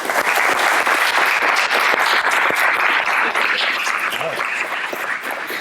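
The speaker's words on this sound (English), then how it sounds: "I think they need a great round of applause for what they've done." A banquet audience at a freshman-sophomore football banquet claps in a dense, lively burst, loud and continuous at first and easing slightly toward the end.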